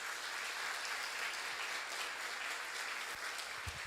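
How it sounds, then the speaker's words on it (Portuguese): A church congregation applauds in praise during a sermon, a dense, steady wash of clapping from many hands that stays loud and even throughout, with no voices standing out. "até dar uma salva de palmas para o Senhor"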